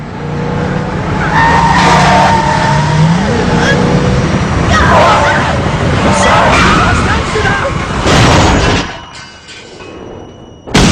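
Tires screech loudly as a car skids in a traffic accident, with roaring engine noise and high squeals over a continuous speaking voice, then a sharp cutoff and a brief quieter tail.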